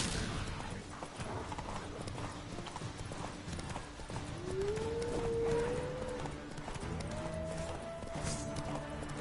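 Horse hooves clip-clop steadily in Witcher 3, a continuous rhythmic trot at moderate loudness, with a rising whistle-like tone sweeping in over the hoofbeats midway.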